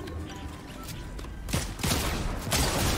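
Shotgun blasts in Fortnite, the new Season 2 shotgun, two or three loud broadband bursts in the second half over busy game noise, with crashing impacts.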